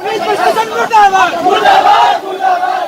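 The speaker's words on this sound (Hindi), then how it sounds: "सैकड़ों की भीड़ ने थाने का घेराव कर लिया और नारेबाजी शुरू कर दी" A large crowd of hundreds chants slogans in loud, rhythmic unison outside Nayapura police station in Kota, with raised voices surging and dipping in close, continuous waves during the protest.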